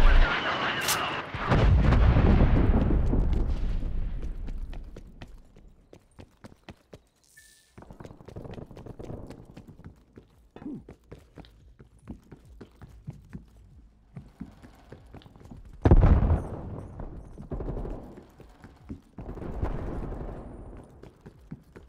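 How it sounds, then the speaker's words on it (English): An incoming artillery strike lands during a Call of Duty: Black Ops Cold War team deathmatch, with heavy booming blasts and rumbling impacts, then a run of sharp gunfire cracks and a second loud explosion later on. "Net call, incoming artillery."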